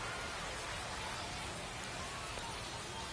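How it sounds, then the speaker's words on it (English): Steady, dense rain pouring down during a baseball game, a continuous close hiss of drops hitting surfaces that fills the whole stretch without letting up. "This rain is not letting up."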